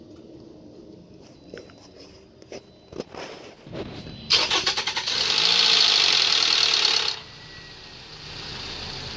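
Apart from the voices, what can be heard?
2010 Toyota RAV4 engine starting and idling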